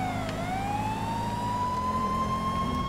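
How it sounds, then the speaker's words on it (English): A police car siren wails in GTA 5 during an LSPDFR patrol, a loud, close, continuous tone that dips then slowly rises over a low engine hum. "turn the sirens off"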